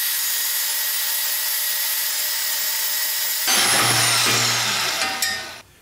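A power tool grinds through a Subaru exhaust pipe, starting as a steady high whine, then deepening into a heavier, louder cutting drone before trailing off at the end.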